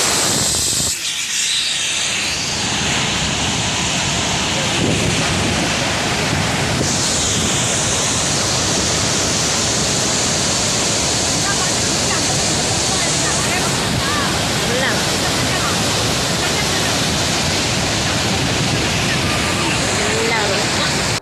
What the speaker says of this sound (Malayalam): തിരുനെൽവേലി, കന്യാകുമാരി, തൂത്തുക്കുടി ജില്ലകളിൽ രാവിലെ തുടങ്ങിയ കനത്ത മഴ തുടരുകയാണ്